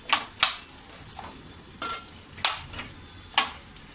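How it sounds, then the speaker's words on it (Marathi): A spoon scraping through a pea, potato and drumstick curry in a pan, with sharp stirring strokes in small clusters over a soft sizzle and no talking. "ढवळून घेऊया."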